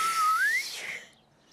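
A cartoon character tries to whistle, producing a single thin, airy whistle tone that slides upward in pitch for a moment before breaking into breathy blowing that fades out.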